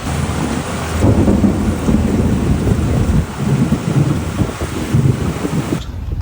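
Heavy thunder rumbles low and continuous through a tropical storm, with steady rain and wind noise over the microphone, loud and close, ending in a sudden cutoff.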